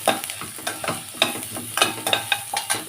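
Crushed garlic and onion sauté in oil in a pan for a sirukeerai poriyal, giving a steady close sizzle broken by regular scraping stirs of a spoon against the pan.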